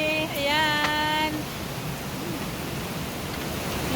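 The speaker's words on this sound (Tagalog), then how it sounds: "Lakas pa ng ulan guys." Heavy rain falls at an outdoor swimming pool venue in the Philippines, a constant loud hiss of downpour, with a brief tonal sound and faint voices near the start.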